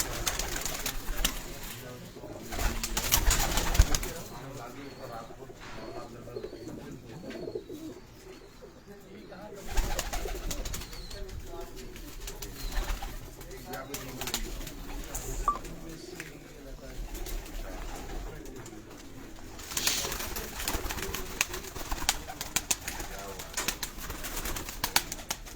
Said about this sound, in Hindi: आपको उनके कबूतरों का शौक करवा रहे हैं